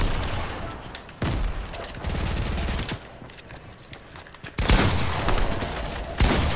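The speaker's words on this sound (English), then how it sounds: "He's throwing grenades." Grenade blasts and gunfire in a first-person shooter video game, loud bursts of rapid shots and booms in several distinct blocks with brief lulls between them, no speech over it.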